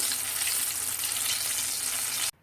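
Bhajiya made from ridge gourd deep-frying in hot oil, a dense, loud, steady crackling sizzle with no talk, cutting off abruptly at the end.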